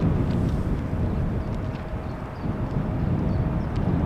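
An ITA Airways jet departs from runway 36L at Amsterdam Schiphol in showery weather, its deep, steady engine rumble heard from a distance alongside wind buffeting the microphone.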